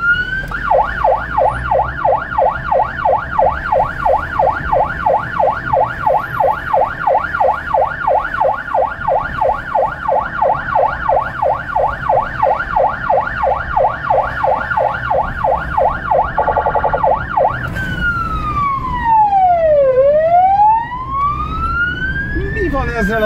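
Ambulance siren on a dashcam run, weak and oddly quiet as if coming from the engine, cycling in a steady rapid yelp for most of the clip, then switching to a slow wail near the end, with traffic rumble beneath.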